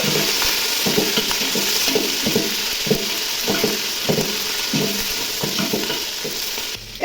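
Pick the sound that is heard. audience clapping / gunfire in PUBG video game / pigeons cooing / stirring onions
stirring onions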